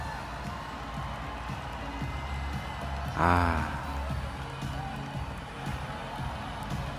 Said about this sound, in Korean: 환호하는 거 보세요.